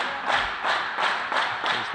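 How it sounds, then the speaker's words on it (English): A Danish crowd at a table tennis match at the 2015 European Championships in Denmark claps in a steady rhythm, with about five even bursts of applause ringing out across the hall. "There's the Danish crowd right into this now. That's good to hear."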